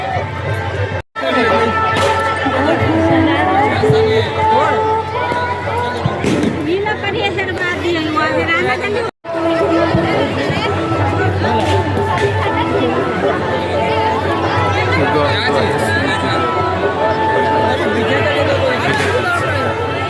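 Dense crowd chatter and babble at a Chhath Puja riverside ghat on the Budhanad river near Pupri, a steady loud hubbub of many voices filling the whole stretch with only two brief dropouts.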